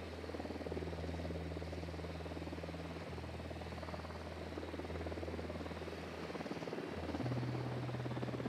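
Patrol helicopter in the video game Ghost Recon Wildlands, a continuous low rotor and engine drone that swells slightly near the end, steady and unbroken with no voices.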